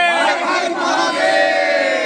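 A crowd at a Shri Balaji temple gathering in Sardulgarh for Maghi Sangrand loudly shouting a religious jaikara for Bajrang, many voices chanting together in one sustained, close roar.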